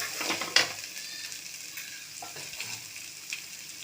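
Food for road-side kadai kalan sizzles steadily in a hot pan, with occasional stirring scrapes and a brief clink of a utensil, close and fairly quiet.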